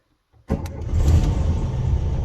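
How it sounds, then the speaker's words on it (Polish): A Fiat 126p engine cranks and catches after a night of heavy rain, then settles into a steady, loud, close idle with no talking. "A teraz zobaczmy jak garbusek odpali po nocy, po ulewnych opadach."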